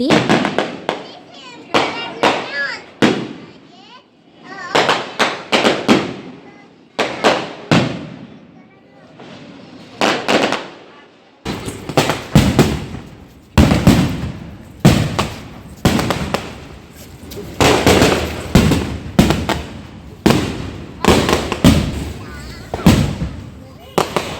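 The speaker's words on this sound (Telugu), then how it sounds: "సో బాణసంచా కాల్పు అయితే స్టార్ట్ అయ్యిందండి" Fireworks at a village temple festival for the goddess Gogulamma in Narasapuram burst in rapid, loud cracks and bangs, coming in clustered volleys that grow denser and continue throughout, with people talking in between.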